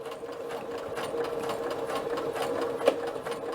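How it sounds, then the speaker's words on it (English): A sewing machine runs continuously while stitching a second row of basting stitches on a dress sleeve, a steady fast mechanical whir with one brief louder clack near the end. "we are just going to go around putting in a second row of basting stitches"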